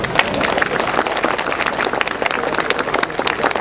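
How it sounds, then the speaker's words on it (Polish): Audience applause for the Police Representative Orchestra at a 2011 concert, steady dense clapping from a large crowd that fills the whole stretch at an even loudness. "Jeżeli tę próbkę doceniamy i podobała się, to poproszę teraz o oklaski"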